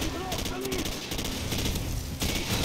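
An M16 fires bursts in Call of Duty 4, with rapid crackling gunfire repeating throughout at a steady loud level amid dense game battle noise.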